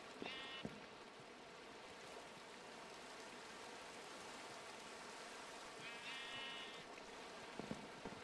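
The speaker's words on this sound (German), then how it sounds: "Es ist Nacht und regnet" Steady rain falling at night in Minecraft, a constant soft hiss throughout, with two brief sheep-like bleats and a few faint clicks over it.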